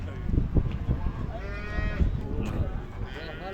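A young calf moos several times, drawn-out bleating calls close by, with faint background noise and no talk.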